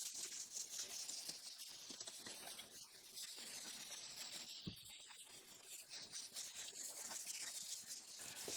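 Steady, soft abrasive rubbing of wet sanding a yellowed Renault Clio headlight lens, close up and continuous, with a faint wet hiss and no talking.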